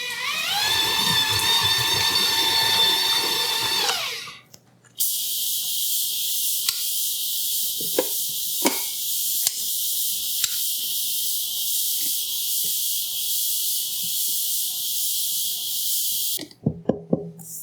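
An electric mixer beats pumpkin cheesecake batter of cream cheese until creamy: a rising whining motor note for a few seconds, then a long steady high hiss with occasional knocks against the bowl, close up.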